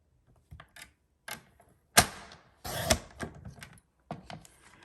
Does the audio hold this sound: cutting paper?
yes